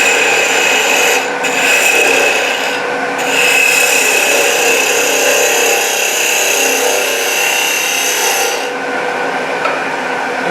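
A mushroom-shaped birdhouse spins on a wood lathe while a tool thins its wall, giving a loud, steady scraping rasp with two brief pauses near the start and a change in tone toward the end; no one speaks.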